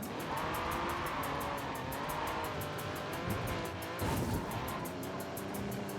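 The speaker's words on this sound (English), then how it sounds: "I love hearing my tires squeal on snow." In a snowy racing video game, a car's engine drones continuously while the tires squeal and slide on snow, with a brief louder burst near the end and no talk.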